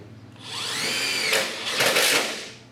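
A Milwaukee M12 FUEL impact driver or M18 SURGE hydraulic impact driver, which has a self-tapping mode, runs with a loud whirring whine that climbs, then breaks into two harsh bursts close by.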